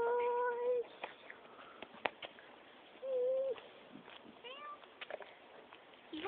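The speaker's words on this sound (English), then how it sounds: "He meowed." A black cat hidden in grass meows several times, drawn-out cries coming close together near the start and again mid-clip, with some bird calls and faint background noise.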